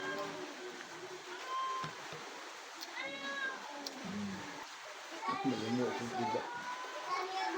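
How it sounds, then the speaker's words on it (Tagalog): A hungry cat meows repeatedly in short rising cries amid background chatter and children's voices nearby. "Maingay si pusa. Nagugutom na din."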